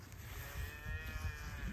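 A powerful, thick-bodied beef cow out on grass pasture lows in a sustained, fairly quiet moo over a low rumbling background, with no talking.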